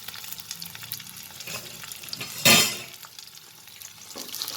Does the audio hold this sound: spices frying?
yes